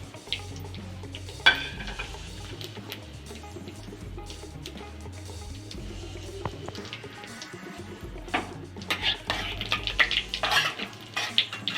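Whole cumin, bay leaves and two dried red chillies frying in oil, a soft crackling sizzle under clinks and scrapes of a utensil against the pan, busier stirring toward the end, no voices.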